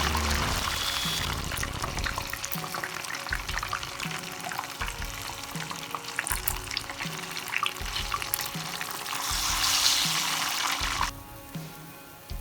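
Wonton dumplings go into hot frying oil, giving a steady crackling sizzle with bubbling that swells and settles over several seconds, close and loud, with no talking.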